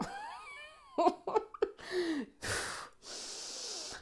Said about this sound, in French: Respiration. Ok, respire.